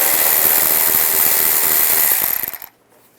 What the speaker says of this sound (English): Use an 8mm socket. You can loosen up the worm clamp right there, and then also right here.